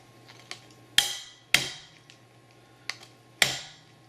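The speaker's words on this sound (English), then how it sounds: "give it a few good whacks. It'll go in, you just got to really hit it hard." Hammer whacks drive a polished Desert Eagle pistol magazine release into place, landing as four sharp, loud metallic strikes at irregular intervals with a few lighter taps between them and no talking.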